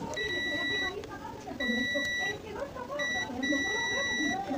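A multimeter's continuity buzzer beeps in several sustained bursts with short gaps while testing a faulty CRT TV, heard over quiet background noise and faint talking.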